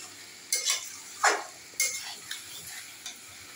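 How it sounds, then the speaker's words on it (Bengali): Fried rice with lemon is stirred in a pan, giving a handful of separate scraping, scooping strokes over a faint low sizzle, close and with no voices. "এদিকে আমার ফ্রাইড রাইস আবার নাড়াচাড়া করে দিতে হবে"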